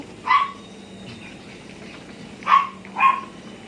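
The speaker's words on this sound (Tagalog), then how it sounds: "Uy, natahol yung aso." Three separate dog barks, fairly close, with pauses between them over a quiet background.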